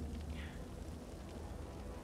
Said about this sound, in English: Rain spell. Rain.